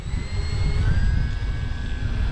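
Radio-controlled model airplane flying backwards in strong wind, its engine a steady droning whine with a slowly shifting pitch, held close and loud against heavy wind rumble.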